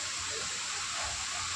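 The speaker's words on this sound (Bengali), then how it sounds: "আর এটা স্ট্রিম ওয়াটার, এটা একদম মানে খুব পরিষ্কার জল" Clear stream water flows steadily at Phu Quoc, Vietnam, a continuous broadband rush and gurgle that stays constant and close throughout, with no talking.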